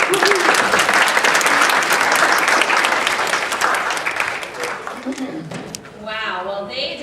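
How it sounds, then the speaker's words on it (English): A church congregation breaks into loud applause that fades toward the end, then a voice begins speaking. "Can we give them a round of applause?"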